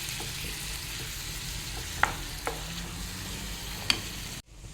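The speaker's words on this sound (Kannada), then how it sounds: "ಬೆಲ್ಲ ಹಾಕ್ಕೊಂಡು ಚೆನ್ನಾಗಿ ಮಿಕ್ಸ್ ಮಾಡುವ." Jaggery is stirred into a mango mixture in a pan, giving a soft, continuous bubbling sizzle with a few faint spoon taps before the sound cuts out at the end.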